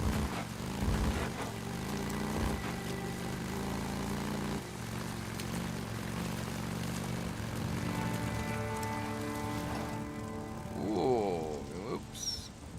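A Harley-Davidson motorcycle engine in the video game Days Gone drones steadily throughout, a continuous buzzing hum that swells and whines higher near the end, mixed with faint rain and game sounds.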